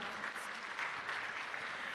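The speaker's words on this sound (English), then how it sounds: "Another rousing round of applause for all the change makers" Steady applause from a crowd at a public sector launch event, continuous clapping filling the whole stretch at a moderate, even level.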